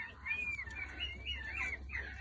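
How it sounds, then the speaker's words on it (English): Peacocks calling on a rural homestead, a series of loud rising and falling wails repeated about three times in quick succession over a low background hum. "there's the peacocks"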